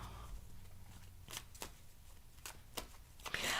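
A deck of playing cards is shuffled in short riffling bursts, a few quick ruffles spaced apart, then a denser flurry at the end, faint and close in a quiet room.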